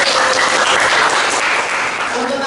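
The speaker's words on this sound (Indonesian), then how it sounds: "Oke, beri tepuk tangan untuk kelompok" A class at a high school claps for a student group after its presentation, loud, close and continuous applause filling the room with a faint voice near the end.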